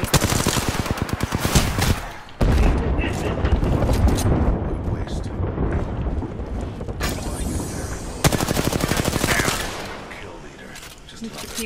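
Continuous rapid gunfire and explosions from a first-person battle royale match in Apex Legends, loud and dense throughout, with bursts of automatic fire and booms over excited voices talking.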